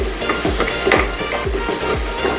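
Potatoes and onion with black pepper fry in a pan as a utensil stirs them, rhythmic scraping strokes roughly twice a second over a steady close sizzle.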